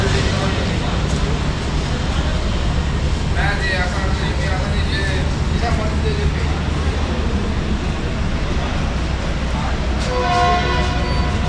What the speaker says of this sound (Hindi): जी हॉर्न हो गया है G20 का